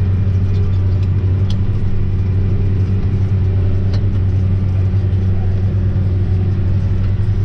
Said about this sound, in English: It's a cool tractor to see in action.